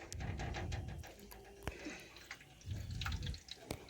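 Starchy water from soaking rice poured off, a steady splashing gush near the mic in two bursts with a pause and a few drips between.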